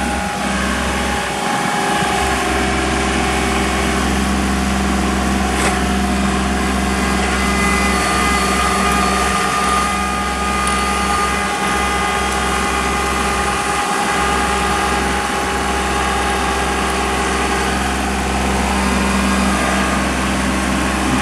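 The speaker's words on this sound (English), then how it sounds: "This is a 3301. It's not really a little Kubota, but it's still in the compact tractor genre." A Kubota 3301 compact tractor engine runs steadily throughout, a loud, constant close-up drone with a persistent hum and no breaks.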